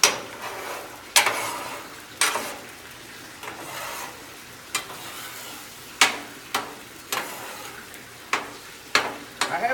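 Eggs for egg burritos cook on a Blackstone griddle, with a soft continuous sizzle broken by a series of sharp scrapes and taps of a metal spatula on the flat-top at irregular intervals.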